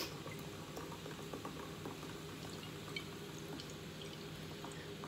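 Vinegar is poured into a glass up to the brim, giving a faint, continuous bubbling and trickling with small drips, close and quiet, without talk.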